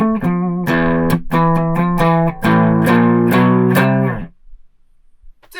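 An electric guitar plays a chunky riff of sustained, harmonically rich notes with sharp picked attacks, then stops abruptly, leaving near silence.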